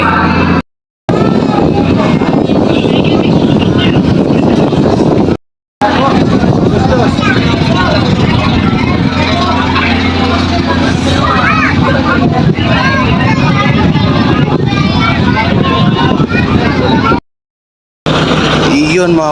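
Steady engine drone and wind rumble aboard a passenger ferry bound for Leyte, loud and continuous throughout, with babble of voices mixed in and a few brief dropouts.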